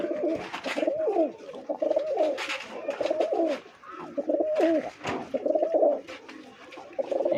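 White pigeons coo close by in repeated low, rolling phrases, several bursts in a loose rhythm with brief pauses, plus faint rustling and a light chirp.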